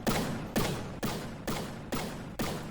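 Cannon fire in the naval combat game From the Depths, with six heavy booming shots at an even rhythm, roughly half a second apart, each one loud and close with a short decaying tail.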